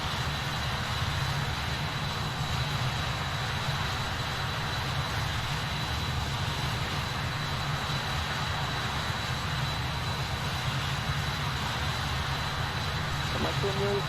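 A BAe 146 jet in the Just Flight simulator takes off from runway 11, its engines giving a steady, loud, unbroken roar that holds level for the whole stretch.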